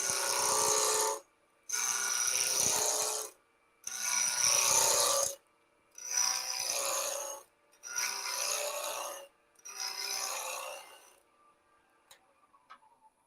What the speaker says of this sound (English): Just using a 1/2-inch bowl gouge to rough.